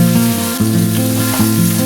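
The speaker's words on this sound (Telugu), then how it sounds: "దీంట్లోనే కాకరకాయ వేసుకొని వేయించుకోవాలి" Bitter gourd fries in hot oil with cumin, green chilli and curry leaves, giving a loud, close, steady sizzle with a faint tonal hum underneath.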